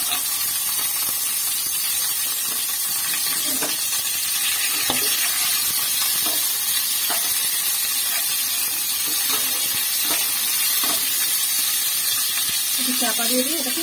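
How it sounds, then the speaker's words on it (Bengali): Chicken pieces frying lightly in a pan for soup momos, a dense, even hiss of hot oil with occasional stirring knocks and faint spatters, close and steady throughout. "এই চিকেনগুলো একটু হালকা করে আমি ভেজে নেব।"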